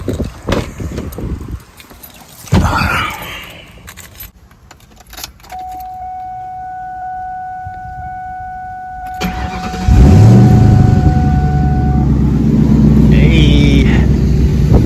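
A Ford New Edge Mustang, freshly fitted with coil-on-plug ignition coils, cranks and fires up, with keys jangling first, then a loud steady idle rumble settling in close by, with a brief electronic tone before the start.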